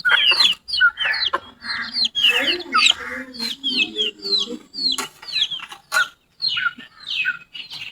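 Hens clucking in a home yard in the morning, a flock giving repeated short clucks and chirpy calls in quick bursts, close and fairly loud, with a few pauses between.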